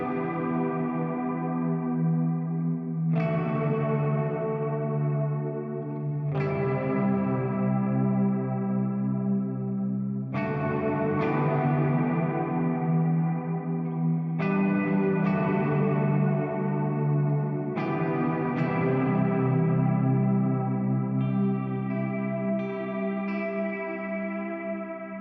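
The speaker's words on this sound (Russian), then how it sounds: "Несмотря на то, что этот дилей будет звучать в моно, звук у него достаточно приемлемый" An electric guitar through a Tank-G processor set to an ambient delay strikes chords every few seconds, each ringing out in a long, washy echo tail that blends into the next, with no talking.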